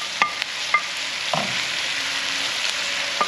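Bacon and sausage fry in a pan with a steady, close sizzle, punctuated by a few light utensil clicks and scrapes.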